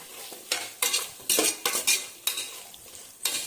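Vegetables for veg biryani stirred and sautéed with salt in a pan, a spatula scraping and clinking against metal in irregular strokes over a light sizzle, close and fairly loud.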